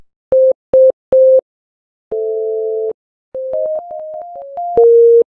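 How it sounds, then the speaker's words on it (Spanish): A Citrus modular synthesizer gives clean electronic tones: three short beeps, a pause, a long sustained chord, then a quick stepwise run of pitches ending on a held low note. The sound is loud, dry and alone. "Pues este sintetizador se llama Citrus"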